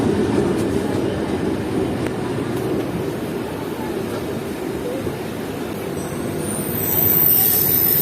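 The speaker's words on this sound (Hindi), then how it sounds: "मलिर रेलवे स्टेशन पर अप्रोच कर रही है ट्रेन।" A train approaches Malir railway station with a steady low rumble of wheels on rail and faint squeals, growing slightly louder near the end. The sound is continuous and fairly near, with no clear speech.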